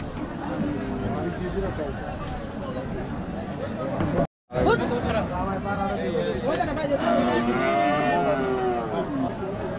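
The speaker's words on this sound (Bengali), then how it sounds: "সুন্দর গরুটা।" Cattle low at a busy village cattle market, drawn-out moos rising over a constant hubbub of voices and chatter from the crowd, with a brief cut of silence midway.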